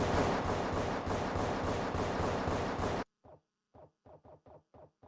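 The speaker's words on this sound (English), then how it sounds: "The suppressor does indeed make it harder to hear than the P2000." Rapid repeated shots ring out in CS:GO, first as a dense, continuous burst of loud gunfire, then as about seven short, clipped pops evenly spaced that fit a suppressed USP-S pistol.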